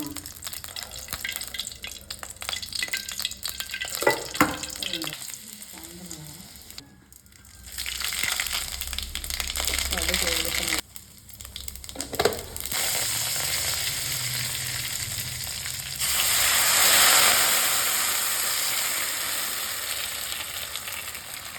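Ground spice paste frying in oil for a Tamil buttermilk curry (mor kuzhambu), a steady crackling sizzle that swells loudly near the end, with brief stirring clatter and a short pause partway.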